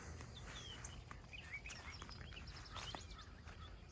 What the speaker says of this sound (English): Hear those birds singing.